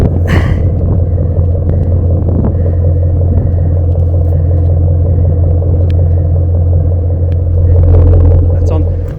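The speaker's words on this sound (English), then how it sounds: "it's got a beautiful hum exhaust" Supercharged 4-litre 1998 Jaguar XKR (X100) idling with a steady low exhaust hum throughout, close and fairly loud, with voices talking over it.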